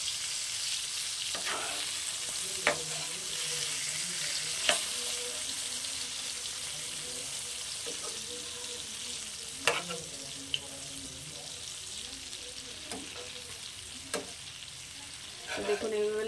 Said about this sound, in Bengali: বেগুনটা তো আমার ভাজা হচ্ছে